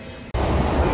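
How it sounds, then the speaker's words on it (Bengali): After a brief quieter moment, a local train at Ultadanga station near Sealdah comes in with a sudden loud, close, continuous rumble of wheels and carriages. "ট্রেন এসে গেছে"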